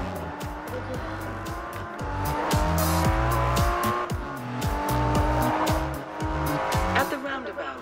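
In the Forza Horizon 2 racing game, a car brakes and drifts, its tires squealing and skidding in loud repeated bursts over a revving engine with gear changes, while a voice talks over the action.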